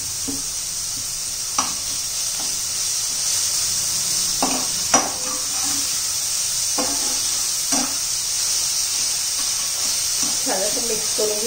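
Egg masala with ginger garlic paste sizzles steadily on a tawa while a spatula stirs, scraping and tapping in irregular strokes close up under a constant hiss.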